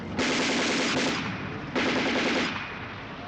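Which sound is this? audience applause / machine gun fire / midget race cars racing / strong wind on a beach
machine gun fire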